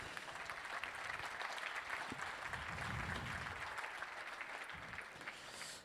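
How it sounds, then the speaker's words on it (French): Applause from an audience at a business talk on mission-driven companies, steady and fairly distant, filling the whole stretch at moderate loudness. "Armelle, il faut l'applaudir parce qu'elle va regarder la vidéo."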